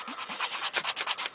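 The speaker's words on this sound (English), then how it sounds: "you're just gonna sand the edges down" Sanding the edges of a glitter resin pendant, a steady run of rhythmic abrasive rubbing strokes, about seven or eight quick passes, close and alone with no talking.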